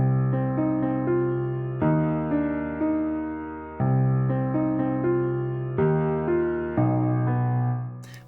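A Maverick synth plays a dark intro for an industrial metalcore song: sustained layered chords that change every two seconds or so, with a bright melodic line on top, steady and loud, no voices.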